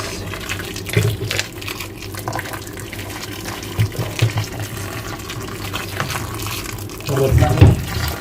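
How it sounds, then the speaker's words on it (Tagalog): Hot water running and splashing steadily, with brief louder gushes as it is poured, under a faint background hum. "Lagyan natin ng mainit na tubig."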